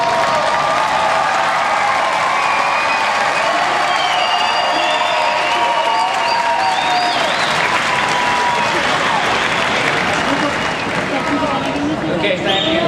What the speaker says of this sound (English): give some applause to your family and friends who've come here today to support you